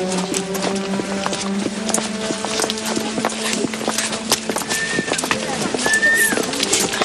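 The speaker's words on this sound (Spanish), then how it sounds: "Los nuevos tranvías a caballo recorrían al trotecito las calles largas y angostas de la ciudad" Horse-drawn tram trotting through long, narrow city streets in old Argentina, with steady clip-clop hoofbeats and rolling rumble, birds chirping and a few high whistles above a busy street scene.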